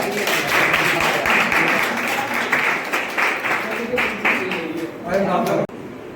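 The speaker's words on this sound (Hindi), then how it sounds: "इन सबके लिए जोरदार तालियां।" Loud, dense applause for newly selected candidates at a coaching-class celebration, sustained clapping from a crowd near and full for over five seconds before dropping off, with voices mixed in underneath.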